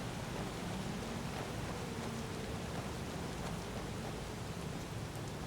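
Rain in a Skyrim-style fantasy game pours as a soft, continuous wash of noise, faint and even throughout with a low rumble beneath it and no voices.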